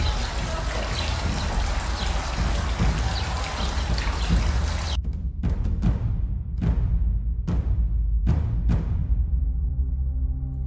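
Water pours and trickles continuously into an ablution basin in the Courtyard of the Oranges at the Cordoba mosque, a close, steady splashing that later breaks into separate drips and splashes.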